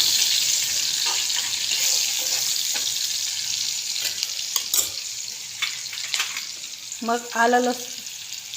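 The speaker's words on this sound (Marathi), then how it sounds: "तेल तापलंय, आता कांदे टाकू" Onions frying in hot oil for a suran (elephant foot yam) dish, a steady broad sizzle with scattered stirring clicks and a brief spoken word near the end.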